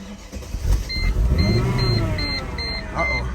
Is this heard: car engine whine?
yes